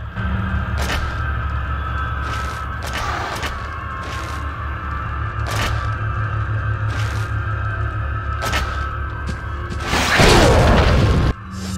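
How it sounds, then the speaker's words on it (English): A grenade goes off in a Resident Evil 4 fan game, a remix of the RE1 remake, bursting loud and broad near the end after a stretch of steady game ambience and sharp mechanical clicks. "I'm gonna grenade it."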